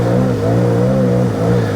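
The engine of a Sea-Doo Spark Trixx jet ski drones loudly and close during a tail stand, a sustained revving hum whose pitch rises and dips slightly.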